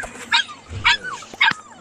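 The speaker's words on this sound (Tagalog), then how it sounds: "Yung aso!" A dog gives three quick yipping barks close by, punctuated by short whimpering sounds, with a voice briefly mixed in.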